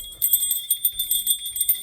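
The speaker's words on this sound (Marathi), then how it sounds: "आता ती घंटी वाजवा अशी." A hand bell rung during a Hindu puja for a housewarming rings out in quick, bright, metallic strikes, about a dozen close rings in a brisk rhythm with no talking.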